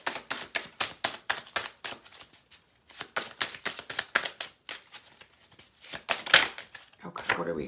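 Playing cards shuffled and drawn for a weekend tarot-style reading, a fast run of crisp riffling flicks in bursts with short pauses, close and clear, with a few sharper card snaps near the end.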